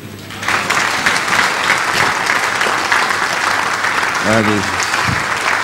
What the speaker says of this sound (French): Acclamons-les.